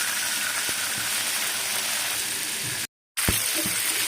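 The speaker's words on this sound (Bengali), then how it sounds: "মাছগুলা ভালো করে ফ্রাই করে নেব।" Pieces of snakehead fish fry in hot oil in a pan, a steady, dense sizzle with occasional pops and a brief break in the middle.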